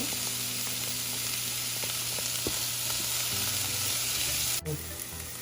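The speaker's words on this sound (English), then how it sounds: "we're just going to stir this and add in all of our powders one by one" Browned onions frying in a pan with ginger, garlic and powdered spices, stirred as they cook: a loud, continuous sizzle with scattered scraping and clinking from the spoon, and no talk.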